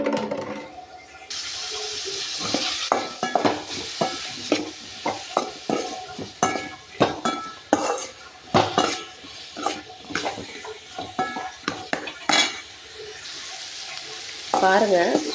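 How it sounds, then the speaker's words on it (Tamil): Chopped onions are sautéed in a little oil in a pan for a drumstick curry, with a continuous sizzle broken by repeated scraping, stirring strokes of a spoon, close and clear. "அடுப்பில் வச்சுட்டு கொஞ்சமாக எண்ணெய் சேர்த்து நல்லா வதக்கி விடுங்க."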